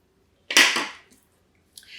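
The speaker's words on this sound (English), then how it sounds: "I'm gonna cut a length of yarn here." Scissors snipping through a length of crochet yarn, one crisp close cut followed by a fainter second snip, otherwise quiet.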